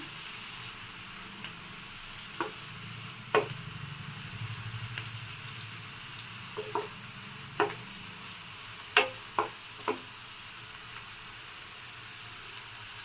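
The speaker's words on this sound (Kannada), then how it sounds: "ಗೋಲ್ಡ್ ಬ್ರೌನ್ ಬರೋವರೆಗೂ ಈರುಳ್ಳಿನ ಫ್ರೈ ಮಾಡಿಕೊಡಿ." Onions fry in a pan for dhaba-style egg curry, a soft steady sizzle punctuated by irregular spatula taps and scrapes against the pan, with no talking.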